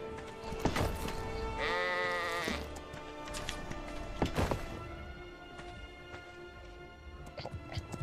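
Sheep bleating in the video game ARK Survival Evolved, a wavering bleat near the middle of a stretch of game noise with thuds and ambient sounds, loud and without voices.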